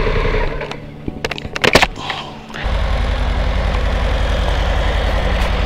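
A 2021 Harley-Davidson Pan America engine idles with a deep, steady low rumble, close and loud. It eases off briefly amid a few sharp clicks and knocks, then the rumble returns strongly.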